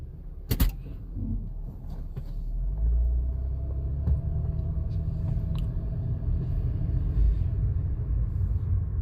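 A Chevrolet Impala with a shift kit drives along with a steady low engine and road rumble, a brief clunk near the start as it shifts into second gear, heard from inside the car.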